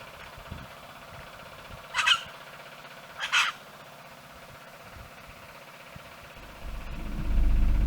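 A crow at a campsite in Australia gives two harsh caws a moment apart, fairly close, over a quiet low rumble that swells into louder engine-like noise toward the end.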